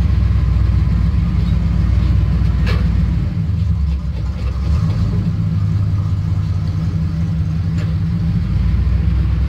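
A 1978 Chevy C10 pickup truck idles cold just after starting, a steady low engine rumble running loud and even throughout with slight dips in the middle.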